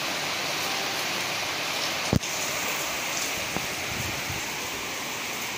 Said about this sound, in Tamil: இங்கே பாருங்க மழை போயிடுது.